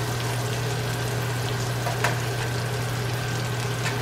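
Seasoned pork chops sizzle steadily in melted butter, a constant close frying hiss with faint crackles and a low hum underneath, no talking.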